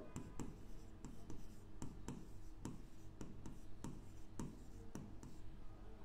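Marker or chalk strokes on a board during a physics lesson, with sharp taps and swishes landing in a steady rhythm roughly every half second, close and clear with no talking.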